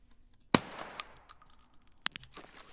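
AK-101 rifle in Escape From Tarkov fires a few sharp, separated shots with faint metallic clinks between them, sparse and uneven rather than a sustained burst.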